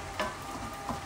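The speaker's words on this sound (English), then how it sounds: "And you can see that sizzling up now." White wine hits a hot cooking pan with a steady, broad sizzle, close and continuous, with a couple of faint clinks from stirring.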